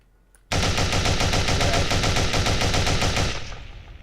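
Rapid automatic gunfire from weapons in the video game Anguish, a loud sustained burst of evenly spaced shots lasting about three seconds before trailing off, with no talking.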